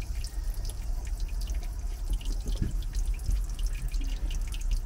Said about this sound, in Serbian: Ovde bi trebalo curi najviše vode